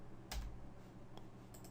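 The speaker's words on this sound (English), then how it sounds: "I'm just pressing enter and hoping for the best" A single computer keyboard key, the enter key, pressed once with a sharp, faint click, followed by a softer tap later, against a quiet room background.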